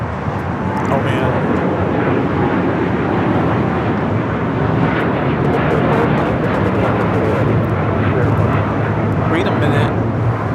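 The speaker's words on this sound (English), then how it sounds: "United Airlines Flight 39 taking off to Tokyo Haneda on the 787-10 Dreamliner" A United Airlines Boeing 787-10 Dreamliner takes off with a loud, continuous engine roar and some wind buffeting, while people talk over it.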